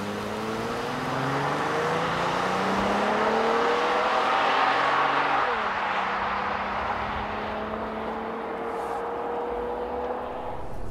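A 2014 Honda Pilot AWD pulls away hard from a stop toward 60 mph, its engine note climbing through gear changes with steady, loud drone and rising pitch sweeps, no talking over it.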